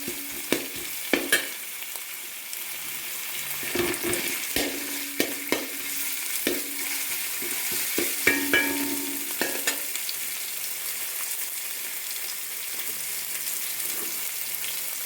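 Ginger, garlic and green chili fry in a pan for an egg biryani, with a steady sizzle broken by stirring scrapes and sharp clinks of a utensil.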